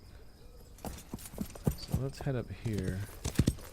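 Horse hooves clip-clop in the Wild West Online video game, a close uneven rhythm of hoof strikes mixed under a man's speech.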